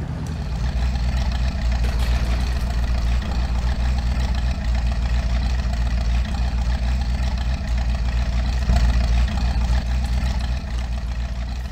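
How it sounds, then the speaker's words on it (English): A truck engine idles in the off-road driving game Mudrunner, a steady, low, rumbling drone that runs unbroken and even throughout, with no talk over it. "how do I kill the engine?"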